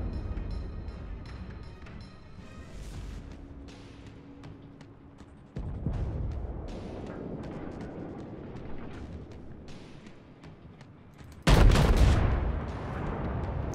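Naval gunfire in World of Warships: deep booming shell salvos roll through a continuous rumble, with a loud, close broadband blast near the end standing out over the din.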